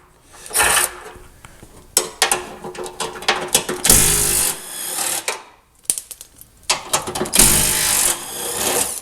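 A ratchet on an extension works a 13 mm bolt loose on a Ford Taurus during a transmission leak repair: bursts of rapid clicking and grinding, close and loud, separated by short pauses.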